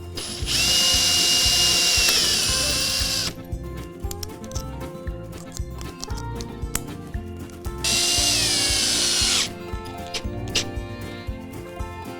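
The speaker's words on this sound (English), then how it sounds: "when you're driving the screws into the clip, don't be tempted to overdrive the screw" A power drill drives screws into hidden decking clips on Cumaru hardwood boards, two long high whirring runs separated by ratcheting clicks, taps and handling clatter, close and loud.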